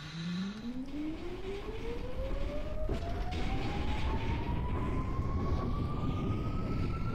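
An NYCT subway train in the OpenBVE simulator accelerates, its motor whine climbing steadily in pitch over a constant rolling rumble, loud and continuous throughout.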